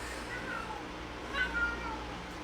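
Pet cats meow in short, complaining cries, two clusters of mewing over steady background hum, fairly faint, after being rounded up and taken outside into the heat during a fire alarm in Japan.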